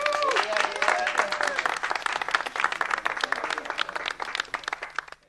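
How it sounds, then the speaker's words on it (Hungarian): Enthusiastic applause from wedding guests, dense clapping throughout with a voice calling out briefly at the start, tapering off at the end. "egy nagy tapsot kérek szépen"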